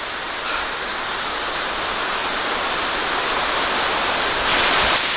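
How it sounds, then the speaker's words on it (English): A waterfall on Mount Katahdin in Maine roars as a dense, steady rush of falling water, loud and close throughout, with a brief swell near the end and no voices. "this over here is the actual waterfall."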